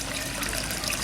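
Water flowing through a double-layered fish pond filter at a koi pond in Thailand, a steady close gushing rush with no breaks and no voices.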